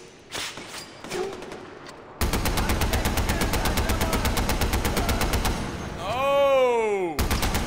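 Rapid mounted machine gun fire in the Far Cry 4 video game, a loud sustained burst of steady rhythmic shots lasting several seconds, preceded by brief voices and followed by whooshing game effects.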